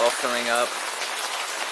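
Heavy rainstorm pouring outside during a San Diego flood, a dense broadband hiss that stays steady and loud throughout, with a brief spoken phrase near the start.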